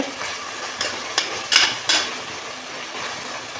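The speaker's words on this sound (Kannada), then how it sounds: "ಇವಾಗ ಚೆನ್ನಾಗಿ ಫ್ರೈ ಮಾಡ್ಕೊಣ ಫ್ರೆಂಡ್ಸ್ ಟೊಮೆಟೊ ತರಕಾರಿ ಜೊತೆ" Tomatoes and vegetables fry in a pan for spinach pulao, a soft steady sizzle broken by a few sharp scraping clinks of a spoon stirring against the pan.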